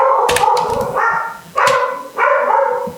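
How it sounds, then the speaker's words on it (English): A security dog barks repeatedly in several loud, close bursts with short gaps between them, with some whimpering yips mixed in. "Sorry about our security dog"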